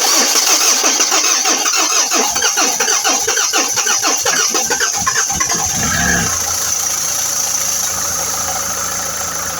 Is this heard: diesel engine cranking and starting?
yes